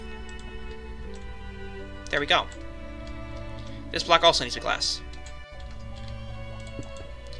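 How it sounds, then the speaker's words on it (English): Redstone contraption in the video game Minecraft ticking with a steady, faint clicking rhythm that runs under a man's speech throughout, with a few louder clicks mid-way. "we can see that that's off, but I still hear it ticking"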